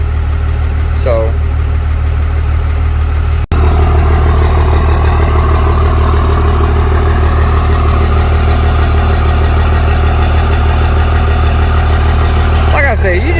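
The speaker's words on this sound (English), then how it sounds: "These are the best sounding trucks, diesels ever manufactured." A diesel truck engine idles steadily with a deep, loud rumble, a sharp click partway through, and faint chirps near the start and end.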